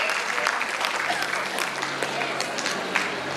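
Audience applauding contestants at a college employees' sports and cultural event, a steady wash of clapping throughout, with some faint voices mixed in.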